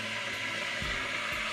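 An old electric kettle just starting to heat a liter of water, giving a steady broadband hiss with faint low rumbles, close and continuous with no talk.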